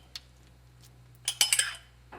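Naan dough ingredients of salt, sugar, baking powder, egg, milk and oil are stirred in a bowl, giving a few sharp clinks of utensil against the bowl in a quick cluster, then a softer knock near the end.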